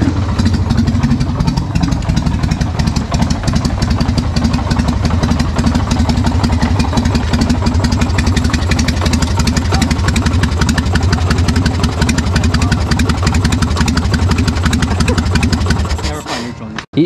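A motorcycle engine idles steadily up close, a dense low rumble with rapid mechanical clatter holding constant for about sixteen seconds before cutting off abruptly at the end.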